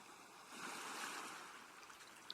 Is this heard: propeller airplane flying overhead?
no